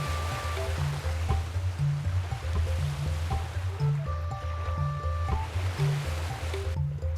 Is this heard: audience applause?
no